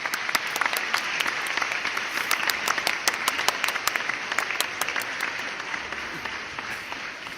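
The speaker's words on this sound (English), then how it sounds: "Let me clap on our illustrious guest speaker for this evening, Captain Rob Roy McAllister!" Audience in a theatre staging of The 39 Steps clapping to welcome a guest speaker, a crowd's applause with sharp, distinct individual claps standing out over a softer wash, steady for several seconds without speech.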